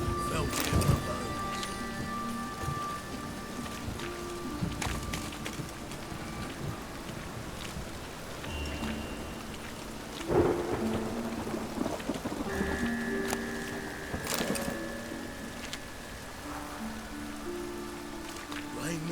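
Steady rain hisses through a Witcher 3 game scene, a continuous wash with occasional sharper taps and faint tonal game sounds layered over it; no thunder stands out.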